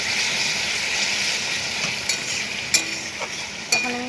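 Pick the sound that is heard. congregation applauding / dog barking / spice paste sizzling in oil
spice paste sizzling in oil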